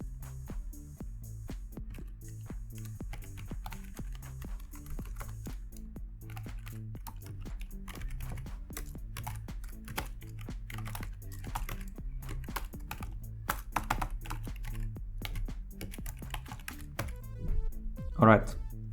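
Fast, steady typing on a computer keyboard at a Linux terminal, with dense close clicks throughout, a few heavier key presses near the end, and a low hum underneath.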